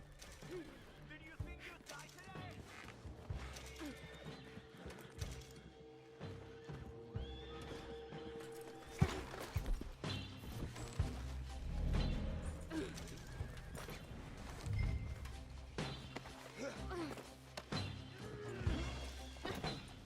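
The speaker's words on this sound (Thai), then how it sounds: "ผมก็ให้เราเนี่ยพาคาเมล่าเนี่ยขึ้นม้าหนีเลยนะครับ" Horse neighing and whinnying with clip-clopping hooves during a getaway on horseback in Red Dead Online, busy with scattered crashes and thuds throughout and no talk.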